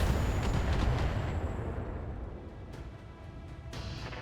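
A vehicle blown apart by gunfire in the Battletech video game: a loud rumbling boom that opens dense and heavy, then decays into a fading roar with a couple of fainter sharp bursts near the end.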